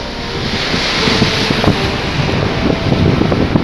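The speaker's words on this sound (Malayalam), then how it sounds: "ഇത് മുംബൈ മറൈൻ ഡ്രൈവാണ്." Seafront at Marine Drive in Mumbai during the monsoon: strong wind rumbles across the microphone over a continuous wash of waves and surf, loud and unbroken.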